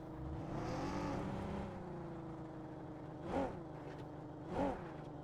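Vehicle engine droning steadily in the mobile battle royale game PUBG Mobile, a moderate motor hum with two sharp louder bursts near the end.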